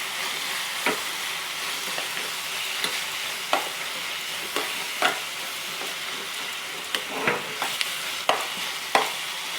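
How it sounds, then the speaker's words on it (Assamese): Onions frying with cumin powder, a steady close sizzle broken by scattered sharp scrapes and taps as a spatula stirs the pan, no talking. "এয়া মোৰ পিঁয়াজ ভজা হৈ গ'ল"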